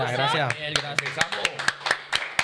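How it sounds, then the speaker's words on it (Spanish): Scattered clapping from a small audience at a political interview event in Puerto Rico, sparse, uneven claps under someone speaking briefly. "Un aplauso."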